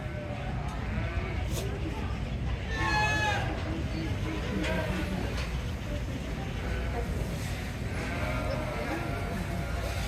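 Milk goats bleat repeatedly at a farm in Yerington, Nevada, several calls at varying distances over a steady background, with people talking.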